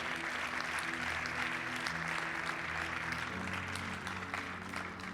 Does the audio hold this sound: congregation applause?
yes